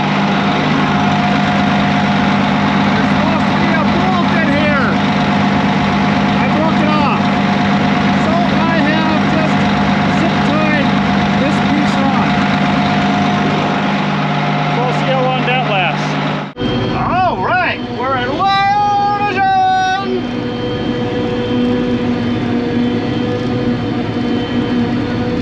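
A hay chopper runs loudly and steadily at close range, a continuous mechanical roar with a sudden drop partway through, after which the machine noise continues with some tonal whine and clatter.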